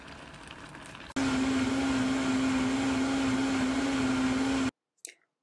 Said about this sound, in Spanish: vamos a pasar esto a licuar.